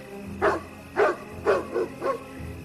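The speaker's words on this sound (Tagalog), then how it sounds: "Bakit nagkakahulan yung mga aso?" Dogs bark in a steady series of five sharp woofs, about half a second apart, at moderate distance over a low background hum.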